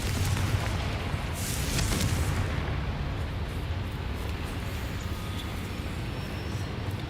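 A Confringo explosion spell in a Harry Potter video game gives a deep, rumbling boom. The blast decays slowly into a dense, sustained roar that fills the whole stretch.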